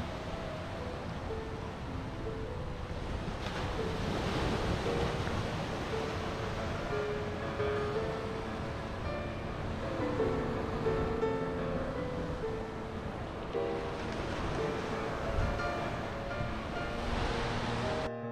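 Continuous surf rolls and washes on the beach where the sea meets the Moheshkhali channel near Cox's Bazar, a steady broadband roar with gentle swells and some wind, no voices.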